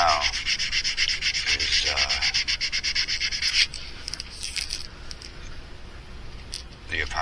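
Sanding epoxy filler on a mouse-shaped fishing lure to level it, giving close, loud rhythmic scratchy strokes that later fade to lighter, fainter rubbing while someone talks throughout.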